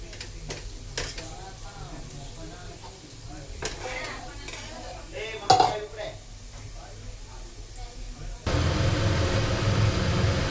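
Bitter gourd frying in a little oil in a pan gives a steady sizzle with scraping stir sounds, a sharp clatter near the middle, then a louder, denser sizzle burst toward the end; a voice speaks over it.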